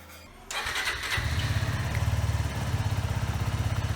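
A Suzuki Gixxer 250 motorcycle engine cranks and fires up close by, then settles into a loud, steady, rhythmically pulsing run.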